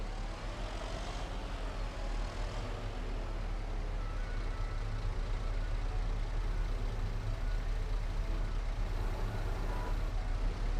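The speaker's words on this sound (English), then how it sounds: "2 bales is almost too heavy for this little wheel loader, but looks like we're going to be okay" A small wheel loader in Farming Simulator 22 hauls two bales, its engine a steady, droning low rumble that holds evenly throughout with no pauses.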